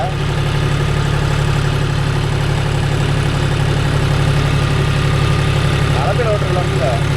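A John Deere 5105 40 hp tractor engine idles loudly and steadily nearby with a low rumbling drone and a faint whining gear noise running under it, while someone talks over the engine.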